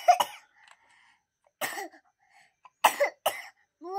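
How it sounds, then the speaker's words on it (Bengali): A child coughs in four separate bursts spread across a few seconds, each a short harsh cough, close and fairly loud, with quiet pauses in between and no speech. "কাশি হচ্ছে তোমার?"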